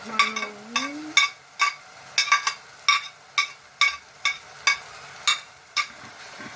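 Chilies tossed into a pan of sizzling egg and onion menemen, with a steady run of sharp, regular scraping and stirring sounds over a soft sizzle.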